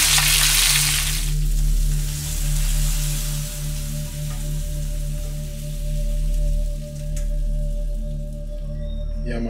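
Fish frying in a pot, giving a steady, close crackling sizzle with a low background hum, after a brief louder burst of bubbling at the start.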